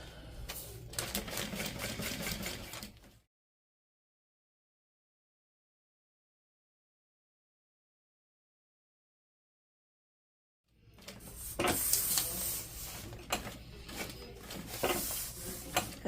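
A sewing machine basting fabric at an eighth-inch seam, a fast close mechanical chatter that runs for about three seconds, drops to silence, then resumes rhythmically for the last several seconds.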